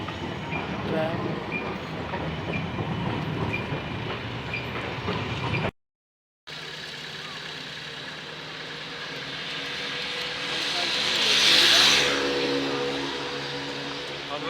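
An Amsterdam tram rumbles past outside, a low rolling rail noise that swells and fades after a brief dropout, with a rising whoosh near the end and no talk.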